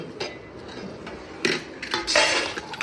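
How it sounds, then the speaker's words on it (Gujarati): Plates and dishes being washed, scattered clinks and knocks of metal and crockery in short irregular bursts, close by with no talk. "ચાલો ચાલો ત્યાં થાળી બાળી સાફ કરીએ"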